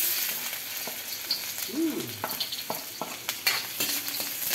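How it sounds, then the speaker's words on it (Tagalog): Garlic sizzling in hot oil in a pan for a bitter gourd and egg sauté, a steady crackling fry with a few scattered clinks and scrapes, close and moderately loud, no talking. "So, if mainit na, lagyan natin ng bawang."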